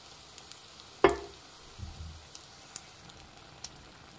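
Raw banana bajji frying in hot oil, a faint low sizzle broken by one sharp splash and clink as a fritter is turned, then a few soft ticks and pops.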